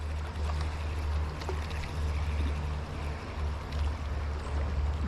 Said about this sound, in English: That water is moving.